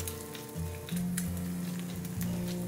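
Egg frying in a pan over a flame, a steady close sizzle with a few louder crackling bursts, no voices.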